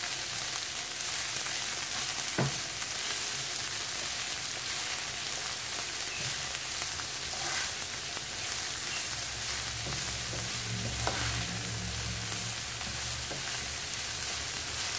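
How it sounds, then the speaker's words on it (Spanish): Chiles and green onions sizzle and fry steadily in a pan, giving a constant crackling hiss with occasional soft stirring knocks, heard close up without any talking. "Y vamos a guisar hasta que los chiles estén cocidos y las cebollitas también."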